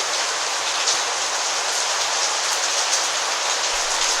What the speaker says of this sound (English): It's raining now, that's why you're hearing the sounds in the background.